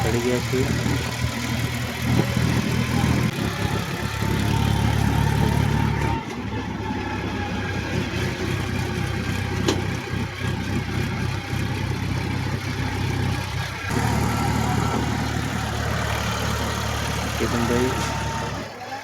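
A loaded farm tractor's diesel engine runs steadily on a highway, a continuous loud drone with road and wind noise throughout.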